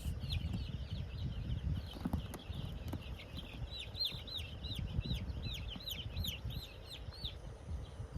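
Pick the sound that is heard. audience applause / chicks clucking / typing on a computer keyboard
chicks clucking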